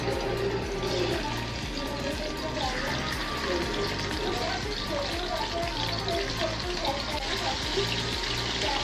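Prawns fry in hot ghee in a pan with a dense, steady sizzle and crackle that continues without a break.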